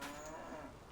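Cows mooing in the farming video game Farming Simulator 25, heard as one brief, low, drawn-out moo that sounds alone and fairly quiet.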